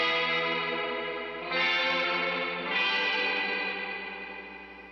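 Sustained guitar chords through an Electro-Harmonix Holy Grail reverb pedal set fully wet, washy reverb with no dry attack, swelling twice and slowly fading.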